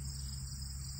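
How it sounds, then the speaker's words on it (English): Insects chirping on a prairie, a dense, steady high trill that carries on without a break, soft and even throughout. "You can hear the insects."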